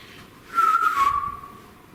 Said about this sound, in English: Can you make a whistle sound?